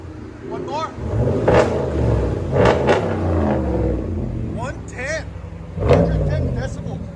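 A 5.7L HEMI V8 in a RAM 1500 with a Flowmaster 40 Series exhaust, rumbling loudly and revved several times in quick bursts, with people talking over the engine.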